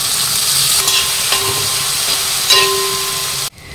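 Onion and tomatoes fry in a pan with a continuous sizzling hiss, broken by a few soft stirring scrapes, until the sizzle suddenly drops away near the end.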